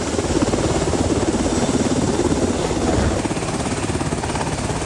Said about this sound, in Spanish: En este helicóptero de la Guardia Nacional estadounidense que acabamos de ver aterrizando